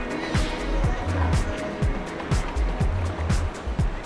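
The Umngot River at Dawki in Meghalaya flows deep past a rocky island, a steady broadband rush of water close by with a regular pulse of low knocking thumps running through it.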